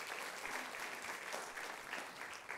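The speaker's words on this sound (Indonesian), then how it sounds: "Beri tepuk tangan dulu yang meriah betul" A church congregation breaks into sustained applause during a worship service, steady clapping from many hands filling the space throughout.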